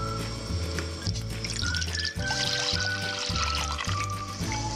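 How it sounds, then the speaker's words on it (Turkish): Milk, sugar, flour and vanilla pour and splash into a pot on the stove with a trickling sound over a steady motor hum, close up, with no speech. "Sütü, şekeri, un ve vanilyayı döküyorum."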